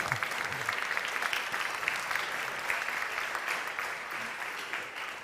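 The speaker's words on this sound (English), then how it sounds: "Big round of applause." Sustained clapping from the audience at a data journalism awards ceremony, an even, dense patter of many hands that carries on for about five seconds at moderate level before easing slightly.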